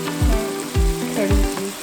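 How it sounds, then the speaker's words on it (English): Garlic ginger paste and cumin seeds sizzle steadily in a hot pan for Bombay aloo, with a few soft, regular thumps from stirring under the frying hiss. "Now I will add the garlic ginger paste and cumin seeds"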